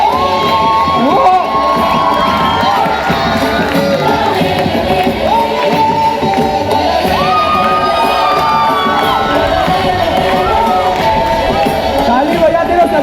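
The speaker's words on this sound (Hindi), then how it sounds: "ताली बजाते रहो, सदगुरु जी स्टेज पे है।" An audience at a children's performance in Dharavi cheers and shouts loudly and continuously, with children's voices whooping through a dense, crowded din that never lets up.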